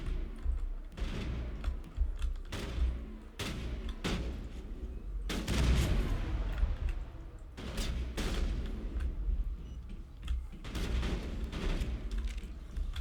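Gunfire in the Mass Effect video game, with dense bursts of rapid shots and heavy booms repeating across the whole stretch, loud and close, with no talk over it.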